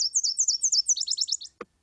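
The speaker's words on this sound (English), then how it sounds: "Here's a Nashville Warbler song." Nashville Warbler song, a clear, close recording of a bright two-part phrase: a series of evenly spaced high slurred notes, then a faster, lower trill, followed by a brief soft click.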